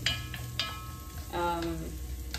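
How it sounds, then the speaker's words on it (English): Garlic sautéing for pork adobo: a soft, steady sizzle in the pan with a few light utensil clicks and scrapes, close and quiet, no talking. "Now we are going to put in our garlic. And then just saute it until it becomes a little bit"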